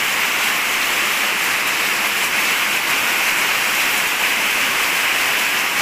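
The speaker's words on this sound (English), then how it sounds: "I guess we'll wait for this rain to subside and see if we can go out then." Heavy rain falls outside in Cambodia, a loud, steady, dense hiss like a downpour on surfaces that continues unbroken throughout.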